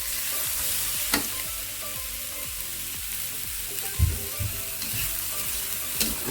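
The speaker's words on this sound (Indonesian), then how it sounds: "Cabai dimasukkan, diaduk" Chili stirred slowly in a pan over low heat, a steady close sizzle broken by a few sharp clacks of the utensil against the pan.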